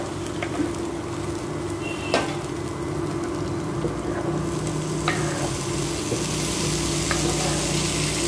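Chopped vegetable meets fried onions in a hot pan, giving a continuous loud sizzle with occasional scraping stirs and clinks of the spoon against the pan.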